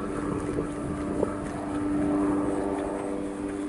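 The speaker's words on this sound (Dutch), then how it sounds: "Het is ook een vliegtuig hoor." An airplane drones overhead in an outdoor park, a steady low rumbling hum that swells slightly and stays fairly faint against breezy outdoor background.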